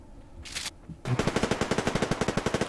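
A slug-loaded shotgun in the shooter game Survarium fires a burst of rapid, evenly spaced loud reports lasting over a second, preceded by a short click and hiss.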